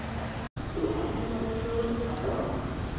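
The Brantas passenger train pulls into a station platform on track 1, a low continuous rumble of rolling wheels and carriages with faint squeals, steady and fairly close.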